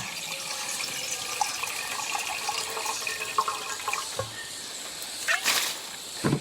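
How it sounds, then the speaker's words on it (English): Water rushes continuously outdoors after heavy overnight rain, a steady gushing flow close by with a few louder splashes and bursts near the end. "Oh yeah, it's running. The water is a-running."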